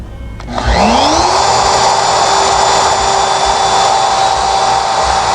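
A Festool router spins up and plunges into wood to cut a SOSS hinge mortise. It opens with a click, then the motor's pitch climbs into a loud, steady high whine that holds close and continuous.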